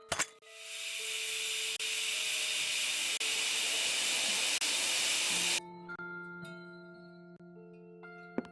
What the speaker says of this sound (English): This should put the fire out.